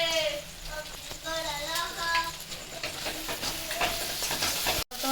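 Spices sizzling and frying in hot oil for chana dal, a steady close hiss while the pan is stirred, with someone talking over it.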